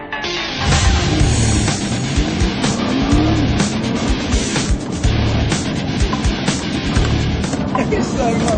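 A Nissan GT-R accelerates hard on a timed test run, its loud engine note rising continuously through gear changes with tire noise, holding close and steady throughout with no break in the roar.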